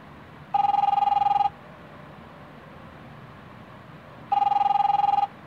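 A telephone in a video game rings twice, each burst an electronic trilling ring of about a second, separated by a few seconds of low background hum, loud and close with no voices.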